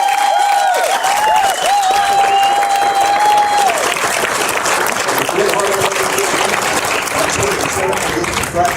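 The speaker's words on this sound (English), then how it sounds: "Can I get you to get these two teams another big round of applause?" A large crowd at a Missouri Legion 19U state championship baseball game applauds both teams, Eureka Post 177 and Washington Post 218, with steady, loud clapping and cheering filling the whole stretch, a brief voice or whistle-like tone near the start.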